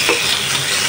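Green chilies fry in a pan with a loud, dense, close sizzle while being stirred, heard alone in a brief burst.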